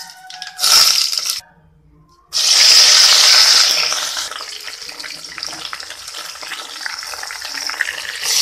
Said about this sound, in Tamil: சாம்பாருக்கு தாளிக்க போகிறோம்.